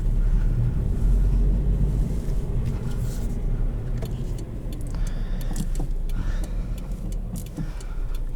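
A 2020 Subaru BRZ Limited with a manual gearbox drives along, its engine and road rumble steady under buffeting wind noise, heard from inside the cabin with no talking.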